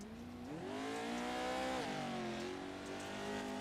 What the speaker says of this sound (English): ride on board with Patrick for a little bit as he shows us a lap around Crandon.